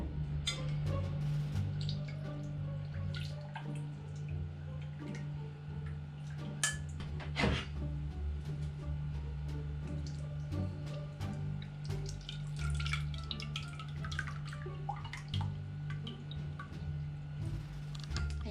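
Leche flan custard mixture strained through a sieve, liquid trickling and dripping steadily at close range under a low background hum, with occasional light clinks.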